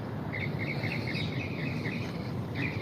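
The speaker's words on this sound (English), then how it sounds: "I hear the birds. It's early." Birds calling in the early morning in New York, a steady series of high chirps and tweets over a constant insect-like drone and background hum, with no talk.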